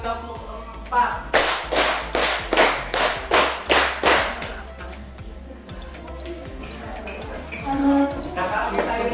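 A class of children clapping in unison as part of a counted rhythm game, with a run of seven or eight evenly spaced loud claps followed by chanting voices and scattered taps.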